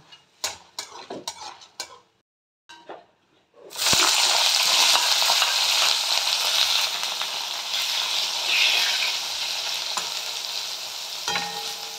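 Eggplant pieces go into hot oil in a pan just after lentil dumplings (bori) were fried. A few light utensil clinks and stirring taps give way to a loud, steady, close sizzle that fills the rest of the clip, with no talking.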